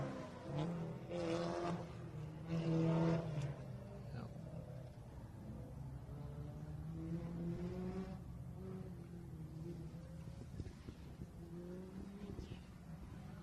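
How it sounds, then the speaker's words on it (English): A rally car on a special stage of the Adelaide Hills Rally accelerates through the gears, its engine rising in pitch several times with brief shift dips, heard from inside the car and fairly faint beneath the cabin noise. "Now give it some throttle down here, plug it through the gears."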